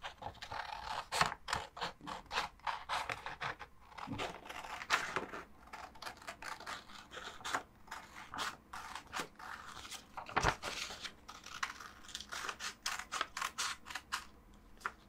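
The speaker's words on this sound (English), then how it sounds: "Just go ahead and cut this out." Sharp scissors snip and crunch through paper in a quick, irregular run of close, crisp cuts, with brief pauses between strokes and no talking.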